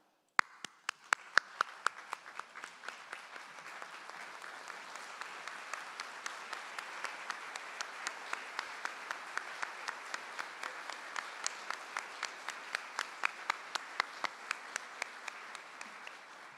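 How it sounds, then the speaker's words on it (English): Standing audience applauding educators at the Golden Apple awards: a broad wash of clapping that swells after a few isolated claps and holds steady, with a few sharper individual claps standing out close by. "Please join me and stand and applaud each and every outstanding educator in this room."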